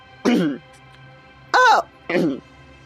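A person coughs and clears their throat in three rough, voiced bursts, close and fairly loud, with short gaps between them.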